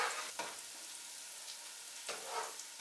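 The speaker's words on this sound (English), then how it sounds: "So I'll just stir this and cook it with the onions and the olive oil for about 2 to 3 minutes." Garlic frying with onions in olive oil as it is stirred, a soft, steady sizzle with a few brief scraping swells from the stirring.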